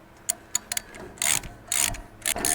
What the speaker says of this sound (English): take your ratchet and start tightening them up